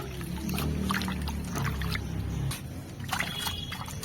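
Taro leaf greens are sloshed and swished by hand in water nearby, with irregular splashes and soft trickles that ease into lighter dribbles toward the end.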